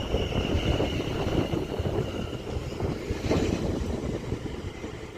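A West Midlands Railway train departing Duddeston station, a steady rumbling roar with some wind buffeting on the microphone, no talk.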